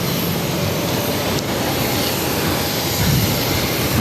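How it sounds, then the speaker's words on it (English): A Hainan Airlines Boeing 787-9 Dreamliner taking off from Boston Logan, heard as a steady, broad jet roar from a distance that holds constant throughout, with no voices. "This is Hainan Airlines Flight 730 taking off to Seattle on the"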